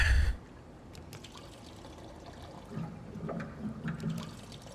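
Water trickling and pouring in the SOMA video game, a soft steady flow that swells slightly toward the end, fairly faint after a brief louder thump at the start.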